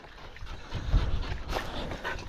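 Eleven-week-old puppies whimper and whine softly outdoors, a low restless mix of small cries and snuffles over steady background noise, with no talking.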